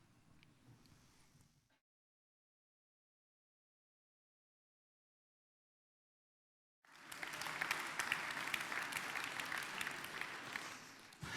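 Applause comes from a film excerpt played during a talk. A faint murmur opens, several seconds of silence follow, and then loud, dense clapping takes over to the end.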